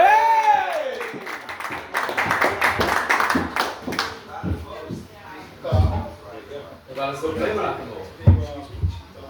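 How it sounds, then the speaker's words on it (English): Crowd claps and cheers for a poet at an open mic night at the Golden Lion pub, a bright burst of applause at the start thinning into scattered claps and shuffling with voices talking over it. "We have a round of applause for Bristol's most miserable poet, Silvan."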